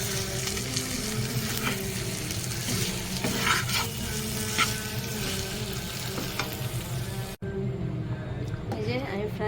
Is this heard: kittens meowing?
no